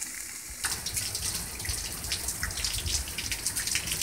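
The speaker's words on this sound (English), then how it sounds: "It's just rain." Rain falling outdoors in cloudy weather, a steady close hiss of water and drips with soft patters, continuous and fairly faint, with no voices.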